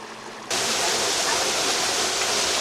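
Steady roar of a waterfall in the Anza Borrego desert during a super bloom, starting abruptly after a brief quieter moment and then running loud and unbroken with broadband rushing water.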